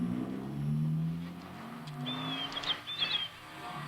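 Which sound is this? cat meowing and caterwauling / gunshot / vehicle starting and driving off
vehicle starting and driving off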